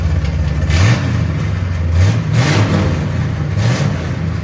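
A 1970 Chevy Chevelle SS with a 454 big block V8, headers and straight pipes revs close and loud, its deep rumbling idle surging into several sharp throttle blips.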